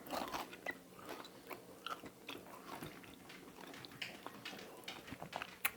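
Someone bites into and chews a homemade bacon and butter snack, giving faint, close crunching and crackling with soft irregular mouth sounds.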